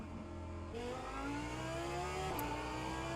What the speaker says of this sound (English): Ah, V10 engine sounds. You'll enjoy them so much.